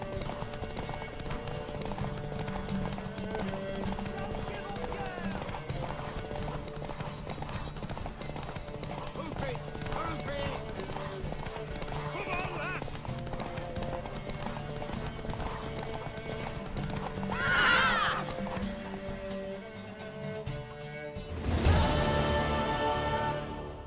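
Hooves clip-clop steadily on a horse race course in The Witcher 3, with rhythmic galloping close by, voices talking over it, and a sharp neigh near the end.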